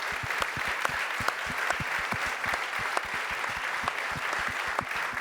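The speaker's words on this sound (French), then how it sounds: "Sous vos applaudissements." A crowd at a medal ceremony applauds steadily, many hands clapping in a continuous loud wash with a prominent close rhythmic clap running through it.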